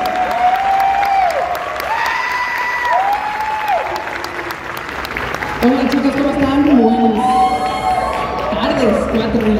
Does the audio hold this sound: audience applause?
yes